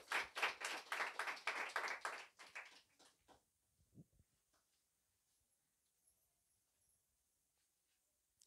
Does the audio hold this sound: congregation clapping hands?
yes